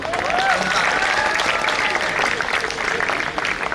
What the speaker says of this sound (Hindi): एक बार तालियां बजाएं ताकि मैं क्रम में आऊं अपने।